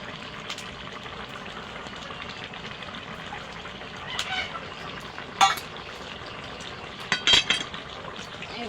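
Fish curry frying in a pan after ground roasted cumin goes in, a steady close sizzle with a few louder stirring scrapes and clinks of the pot, alone without talk.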